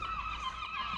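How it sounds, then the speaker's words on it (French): Gulls calling at a Scottish seaside spot near Mallaig, a brief run of loud, wavering nasal cries close by, heard alone. "il y a des goélands partout"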